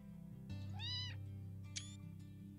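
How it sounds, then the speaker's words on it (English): A cartoon cat in the game Play with Gilbert Remake lets out a clear meow, followed shortly by a second short, high mew, both close over a quiet game background hum. "Oh, I think a cat is hidden behind."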